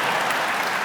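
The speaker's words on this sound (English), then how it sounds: "a couple claps for making life better" Audience applause at a live political talk event, dense steady clapping filling the whole brief moment at moderate loudness, no voices over it.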